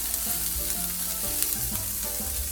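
Meatballs fry in a pan for a bolognese, a steady close sizzle with stirring and scraping through the whole stretch, no voices.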